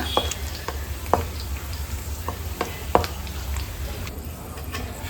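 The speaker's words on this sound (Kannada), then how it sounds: "ಫಸ್ಟಿಗೆ ಎಣ್ಣೆ ಬಿಸಿಯಾಗಿದೆ. ಕರಿಬೇವನ್ನ ಒಂದು 3 ಕಡ್ಡಿಯಷ್ಟು ಹಾಕ್ಕೊಂಡಿದ್ದೀನಿ. ಇದನ್ನು ಫ್ರೈ ಮಾಡಿಕೊಂಡು ಎತ್ತಿಟ್ಕೊಳ್ಳೋಣ." About three sprigs of curry leaves fry in hot oil in a pan, giving a steady close sizzle and crackle with occasional sharper pops and stirring scrapes, with no voice over it.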